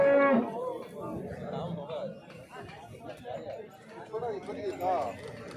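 A calf moos loudly at the start, followed by people chattering and calling out over a noisy cattle market background.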